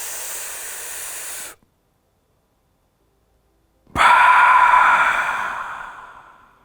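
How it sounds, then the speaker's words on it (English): Slow, close breaths during a calming breathing exercise: a steady airy hiss that stops, a silent pause, then a longer loud breath that gradually fades. "breathing in for 4 seconds."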